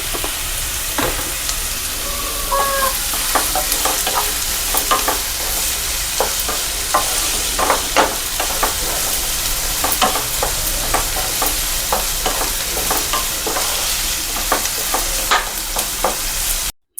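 Masala spices frying in a pan until golden brown with a little salt, a continuous loud sizzle broken by frequent scraping stirs of a spatula throughout, no talking.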